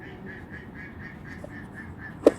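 An outdoor bird, likely a duck, gives a steady series of about ten quick, evenly spaced quacking calls at moderate distance over faint background noise, ending with a short sharp sound.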